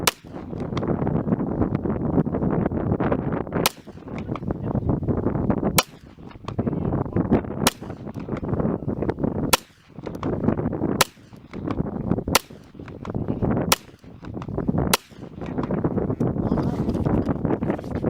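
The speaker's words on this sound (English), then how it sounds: "So I'm going to do a quick shoot of the steel Winchester USA Forged." Nine sharp gunshots from a 9mm pistol firing Winchester USA Forged 115-grain steel-cased ammunition at an outdoor range, spaced irregularly over wind noise with each shot loud and close.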